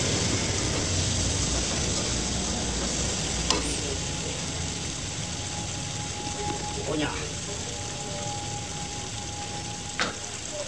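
Instant fried noodles with mustard greens stir-fried in a pan: a steady loud sizzle with scraping of the utensil and a few sharp clinks, close up, while a person talks over it.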